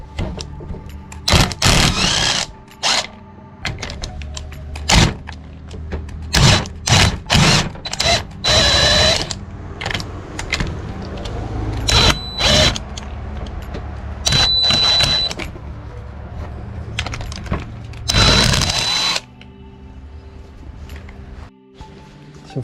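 Powered driver buzzing in short bursts while removing the carburetor from a Stihl HT 131 4-MIX pole saw, about a dozen separate runs of one to two seconds with clicks and handling noise in the pauses, close and fairly loud.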